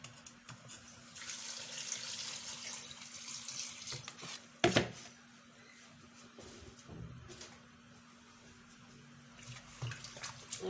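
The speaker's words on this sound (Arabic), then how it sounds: "هنضيف عليه نص لتر من الماء" Half a liter of water poured into a pot of yellow lentil soup, a soft trickling splash at moderate distance with a brief louder clatter partway through.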